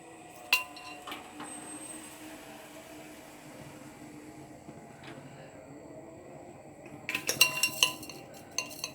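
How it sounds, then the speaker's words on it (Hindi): A metal spoon clinks against a steel pot as sugar is added to strong dhaba-style chai, a few soft taps early and a quicker cluster of clinks near the end over a quiet kitchen hum. "ये वाला चम्मच एक मैं बस इस तरह से डाल रही हूँ"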